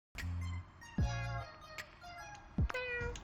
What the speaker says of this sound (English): you hear happy meowing